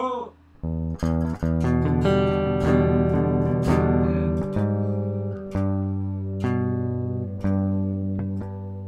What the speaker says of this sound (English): To the bottom 4 string chords that sound something like this